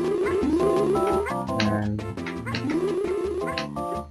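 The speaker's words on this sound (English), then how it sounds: "my cat's meowing" A house cat meows close by, mixed into steady, tuneful video game music from Yoshi's Island that plays throughout.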